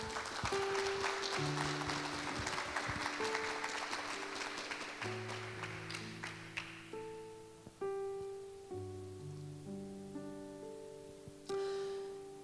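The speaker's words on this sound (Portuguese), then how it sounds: "Você pode dar uma salva de palmas ao Senhor?" A church congregation claps in a broad burst of applause that thins out over several seconds, giving way to sustained keyboard chords that keep playing alone.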